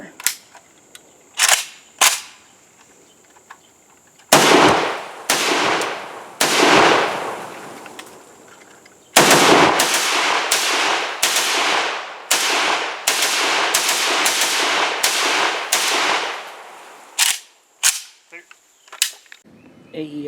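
A Cugir WASR-10 rifle fires through a magazine outdoors: loud, sharp cracks come singly at first, then in quick irregular strings with brief pauses between.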